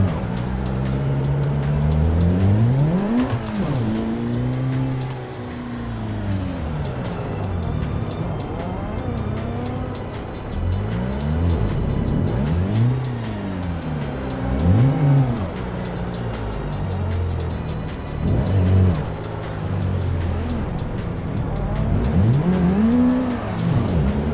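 Cars drift in tandem on the Irohazaka and BattleRidge tracks of a racing video game, with engines revving up and down in repeated sweeps and tires squealing, loud and continuous.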